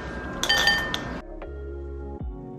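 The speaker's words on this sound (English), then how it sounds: "I add these ice cubes. I'm just putting them all into this bowl" Ice cubes clatter and clink into a bowl in a loud burst, followed by a few scattered single clinks as the last cubes settle, with no one speaking.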